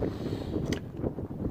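Wind at Bares lighthouse on the Spanish coast buffets the microphone in low, rumbling gusts, a close, continuous blustery roar with no voices.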